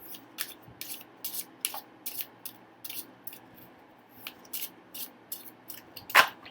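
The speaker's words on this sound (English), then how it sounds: "it overhand shuffles beautifully" A tarot deck being overhand shuffled, with a rapid series of crisp papery card slaps in irregular bursts, close and fairly soft, with no talk over it.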